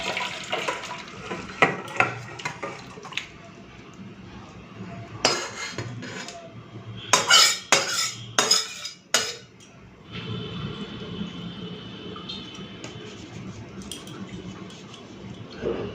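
Rohu fish curry poured out of a pan after the gas is switched off, heard as scattered clinks and scrapes of metal utensils against cookware, a burst of sharp clatters in the middle, then a quieter stretch of faint clinking.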